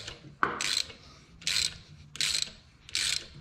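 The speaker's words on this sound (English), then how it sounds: "I'm gonna go ahead and just push off the center and see if she comes off" A three-jaw puller works against a pulley on a V8 Magnum 5.9L engine, giving one sharp knock followed by three or four separate bursts of raspy ratcheting, each about a third of a second long, close and clear.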